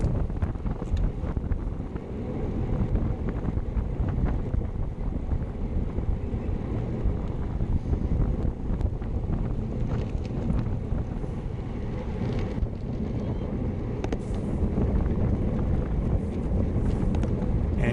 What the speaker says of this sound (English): the wind is coming from our right